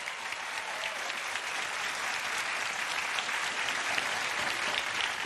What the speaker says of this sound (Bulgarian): Бурни аплодисменти за 5-те отбора тази вечер!